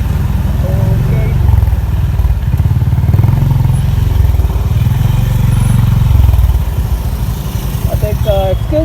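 A Honda H'Ness CB350 motorcycle engine rumbles steadily at low speed in a traffic jam, its exhaust note continuous and fairly loud, with surrounding traffic noise and a few faint horn toots near the end.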